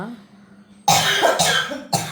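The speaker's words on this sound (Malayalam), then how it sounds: "ചുമ പിടിച്ചു പോയി" A quiet low murmur, then a sudden loud cough followed by a second sharp cough, close to the microphone.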